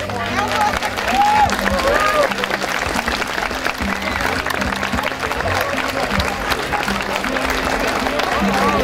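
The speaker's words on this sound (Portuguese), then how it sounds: "queremos aclamar a ti através de uma calorosa salva de palmas." A crowd at a town anniversary festival in Pedralva applauds steadily, a dense sustained clapping with a faint murmur of voices and a brief whistle early on.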